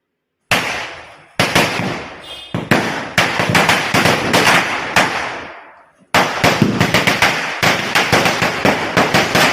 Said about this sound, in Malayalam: അങ്ങനെ പടക്കം പൊട്ടിച്ചു കേട്ടോ.